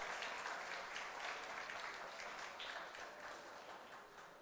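An audience at a pharma festival medical expo session claps, a faint, distant patter of applause that slowly fades toward the end.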